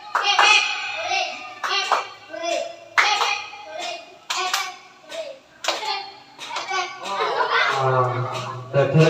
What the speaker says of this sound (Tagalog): Dapat palakpak. Malakas ha.